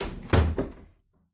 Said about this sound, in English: Nurse Needle's door clanged shut behind them.